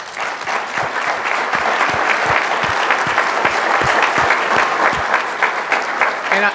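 A crowd claps in a steady, warm round of applause that holds at an even level throughout.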